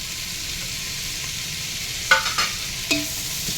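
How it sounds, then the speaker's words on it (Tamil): Mushroom fried rice with capsicum and vegetables is stir-fried on a high flame in Chennai street style: a steady soft sizzle broken by a few sharp spatula scrapes and clanks against the pan. "நல்லா மிக்ஸ் பண்ணிக்கோங்க ஃப்ளேம் ஹைலே இருக்குங்க அதனால விடாமல் மிக்ஸ் பண்ணிட்டே இருங்க அடியில் பிடிச்சிடக்கூடாது"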